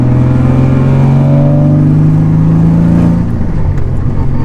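Heavily modified Nissan Z drag-style car revving through its aftermarket exhaust, a loud close engine drone rising in pitch and then easing off, with no talk.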